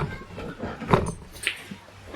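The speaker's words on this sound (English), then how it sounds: "my dog wants to come say hello" A dog gives a couple of brief, soft whimpers and whines close by indoors, with quieter background noise between them.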